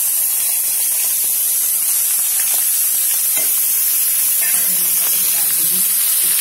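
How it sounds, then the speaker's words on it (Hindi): Spiced cauliflower frying in a pan, a steady loud sizzle and hiss with occasional stirring scrapes and clinks throughout. "ये हमारा गोभी भुना रहा है"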